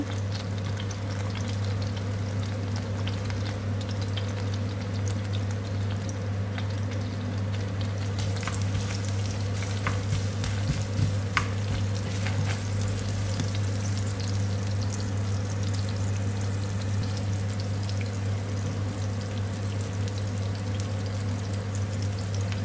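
Onion fries in a little oil in a pan, with a steady crackling sizzle that runs unbroken at close range, alongside a constant low hum, with no talk over it.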